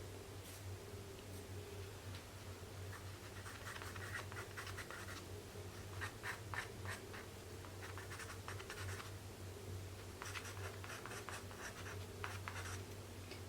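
Pencil rubbing firmly over paper to burnish highlights in a fur drawing, with quiet repeated scratchy strokes in short bursts, close and faint, no talking.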